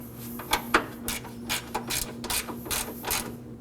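A ratchet snugs a 10mm bolt on a 2014-2020 Acura MDX during radiator fan replacement, a close series of crisp clicking pawl strokes in an uneven rhythm, alone.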